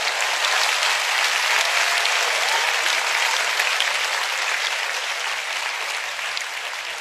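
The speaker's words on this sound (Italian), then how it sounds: "Qua volevo l'applauso" Audience applause during a live comedy show, a steady, full sheet of clapping from many hands that runs for about seven seconds and fades slightly toward the end.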